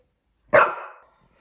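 Bug the Cuddle Puppy gives one sharp, close bark that rings out loud and alone, then fades quickly into silence.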